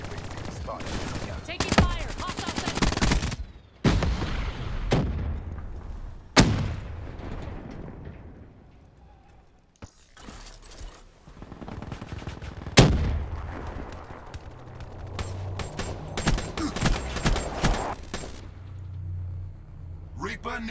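Gunfire in Call of Duty: Black Ops III comes in scattered loud single shots and bursts with heavy booming impacts, separated by quieter stretches, while in-game radio voices talk throughout.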